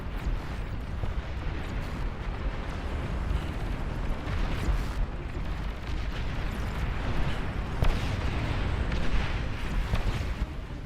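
Starfall launchers in the real-time strategy game Beyond All Reason pound a massive battle with continuous, overlapping explosions. The dense, rumbling barrage is loud and steady throughout, with a sharper blast near the end.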